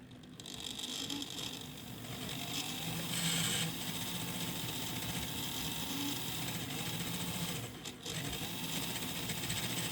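Motor of an OO gauge Midland Pullman model train running: a steady, close whirring buzz that holds level for the whole stretch, dipping briefly once near the end.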